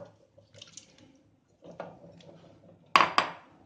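Tomato pieces dropped into a pressure cooker: soft wet plops and small knocks, then two sharp louder clatters of pieces hitting the metal pot near the end, close and without talk.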